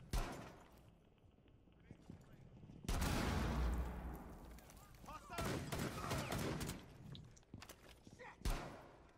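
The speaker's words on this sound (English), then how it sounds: "my pistol just went off" A pistol going off in the video game Terrorist Hunt, a sudden loud burst of gunfire after quiet, followed by more sharp shots and players talking.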